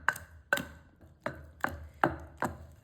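Gongura leaves being ground in a stone mortar for chutney, heard as six sharp, evenly spaced pounding thuds with brief scraping decays between them, close and fairly quiet with no talk.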